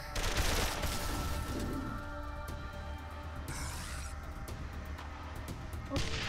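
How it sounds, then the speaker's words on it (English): Gunfire sounds from the video game Wasteland 2 crackle as a dense, fairly quiet fusillade of shots and impacts mixed with game noise over several seconds. "Let's crouch and fire on him."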